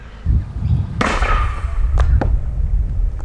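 A Nerf 40mm grenade launcher fires a three-dart shotgun blast at a target about 10 meters away, giving one sharp pop followed by a couple of fainter thuds over a rumbling background.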